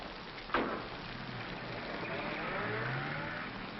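Steady rain hisses down around a car in a 1947 crime drama scene, with the car's engine rumbling and rising nearby beneath the downpour.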